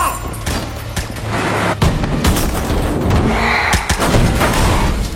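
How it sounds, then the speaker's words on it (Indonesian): Gunfire from a rival gangster attack, a burst of loud shots and booms over a dense, continuous roar lasting several seconds, with sharp cracks standing out near the end. "sekelompok gangster saingan menyerang Suchat, menyebabkan Billy terkena tembakan"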